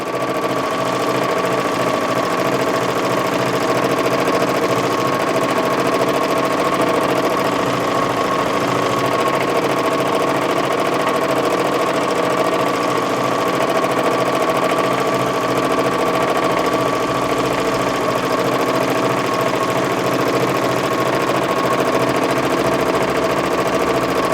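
A domestic sewing machine set up on a tabletop quilting frame with a darning foot, stitching in a steady, continuous hum with a fast mechanical rhythm, close and loud throughout without talk.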